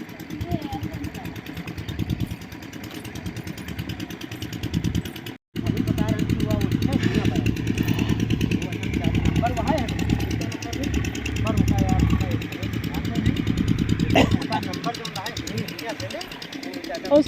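A tractor stuck in a farm field runs its diesel engine with a steady, rough, knocking chug, cutting out for a moment before resuming, as people talk nearby over the noise.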